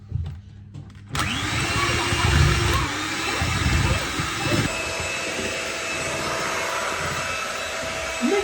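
An electric mixer whipping traditional French brownie batter into a foam, a loud steady whirring drone that starts abruptly after a quiet moment and holds close and constant.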